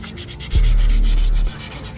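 Sandpaper rubs across a brake caliper being prepared for repainting, one firm, close, steady sanding stroke lasting about a second amid quiet workshop background.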